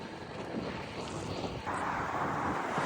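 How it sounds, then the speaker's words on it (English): Strong headwind roars steadily into the microphone while cycling through flat farmland in eastern Canada, a constant rushing that grows louder partway through, with no one speaking. "Crazy headwind. I'm riding right into it."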